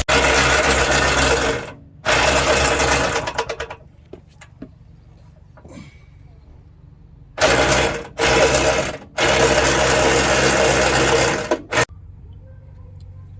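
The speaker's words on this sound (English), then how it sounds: "We're now ready to drop the wheel down." Power tool or mechanism whirring in loud sustained bursts while the spare wheel of a Mitsubishi Shogun/Pajero Sport is lowered, the locking nut worked with a 21mm socket, with quieter clicks and gaps between the bursts.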